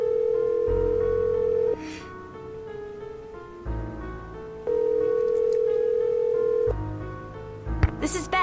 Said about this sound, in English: Manually dialing 10-digit phone numbers.